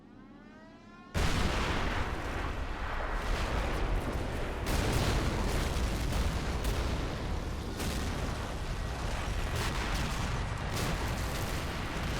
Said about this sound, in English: Damn, what an explosion.